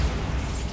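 An explosive Bombarda spell from the Hogwarts Legacy video game lands as a short, deep, booming burst, loud and low-heavy, and fades within a second.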